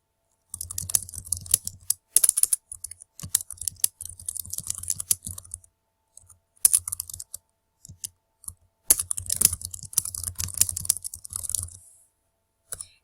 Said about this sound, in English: and continue typing my post